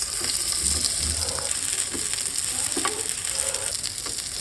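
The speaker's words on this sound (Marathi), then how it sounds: "तुम्हाला वाटलं तर तुम्ही डीप फ्राय पण करू शकता, पण मी असं शॅलो फ्राय करून घेऊया." Soya kabab tikkis shallow fry in hot oil in a pan, giving a steady, loud sizzle with occasional pops and light scraping.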